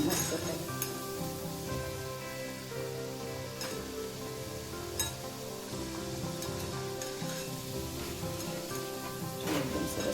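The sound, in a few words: churma dough frying in ghee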